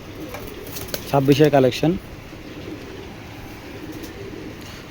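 Pigeons of an original Ludu-line stock coo in a short burst of several throaty pulses at close range, followed by low background noise, with someone talking over it.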